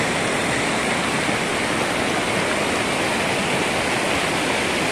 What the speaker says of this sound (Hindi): बहुत प्रेशर से पानी आ रहा है गाइस, बहुत प्रेशर से।